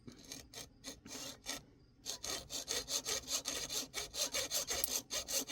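A hand saw cuts through wood with a scroll-type blade, giving rapid, regular rasping strokes that stop briefly after a first burst, then resume in a steady, close, evenly paced rhythm.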